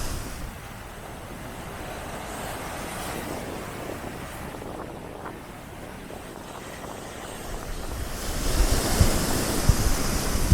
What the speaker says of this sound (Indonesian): Tuh kan, gede banget ombaknya.